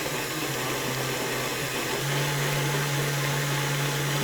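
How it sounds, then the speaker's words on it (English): An electric mixer runs steadily on gingerbread cutout cookie dough, a constant motor hum whose pitch shifts partway through and then holds, with no voices. "then combine it more uniformly on the mixer"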